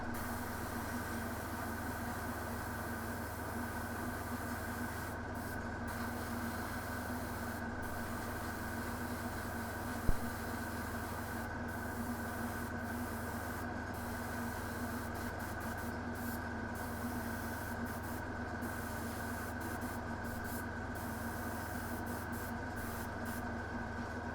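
An airbrush hisses steadily at 15 psi as it sprays paint onto a Knight Armiger model, with a constant faint hiss and a low hum alongside and no talking.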